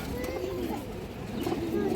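Old-breedline pigeons with short beaks coo in soft, repeated low calls, close by, with a steady murmur of background noise and some voice-like sound mixed in.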